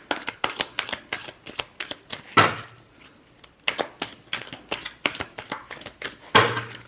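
Tarot cards shuffled by hand in quick rippling bursts, close and crisp, with two heavier thumps where the deck is squared and tapped.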